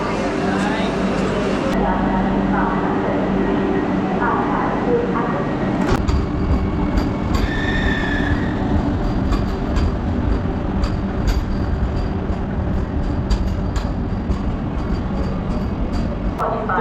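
Vande Bharat Express at a station in Mumbai, with a steady low rumble and platform bustle heard close by while people talk over it.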